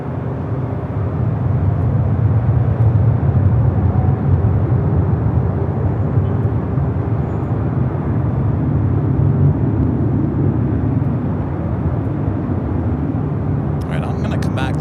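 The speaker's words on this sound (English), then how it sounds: "Cleared for takeoff for the Dreamliner" A Boeing 787 Dreamliner takes off at Los Angeles LAX airport, a steady low roaring rumble from a distance that carries on unbroken throughout.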